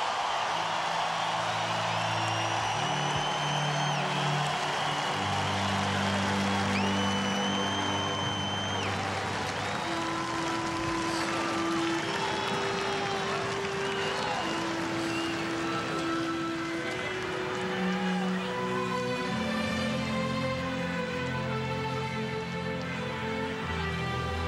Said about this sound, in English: A big round of applause for the best second baseman in Cubs history